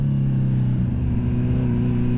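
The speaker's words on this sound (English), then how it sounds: "I put a Dominator exhaust on this, and it's got that real classic sport bike sound" Sport bike engine fitted with a Dominator exhaust, a steady loud droning hum at high revs, close and continuous with no talk.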